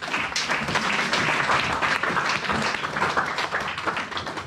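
A church congregation applauds and claps together during a sermon, a dense, loud, continuous wash of clapping that holds steady for several seconds.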